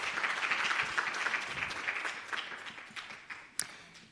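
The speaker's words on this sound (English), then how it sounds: "Please, ladies and gentlemen, give her a hand of applause." Audience applause welcoming a speaker to the stage at a women's economic development leadership forum; a full burst of clapping from many hands that gradually fades, ending with a couple of scattered late claps.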